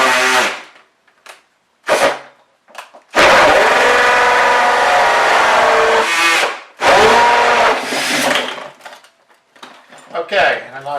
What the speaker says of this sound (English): now what I can do is I can attempt to drill the hole